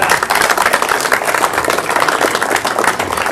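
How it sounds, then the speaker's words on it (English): A round of applause for a commander at a National Commanders Visit event, steady crowd clapping throughout, close and fairly loud. "Let's give Commander another round of applause."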